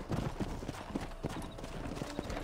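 Rapid, steady clip-clop of horse hooves in the video game Red Dead Redemption, several sets overlapping in a busy rhythm, close and fairly loud with no talk.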